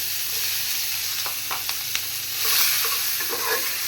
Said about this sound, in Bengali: এই তেলের মধ্যে আমি পেঁয়াজ দিয়ে দিব পেঁয়াজ কুচি করে রাখছিলাম আগেই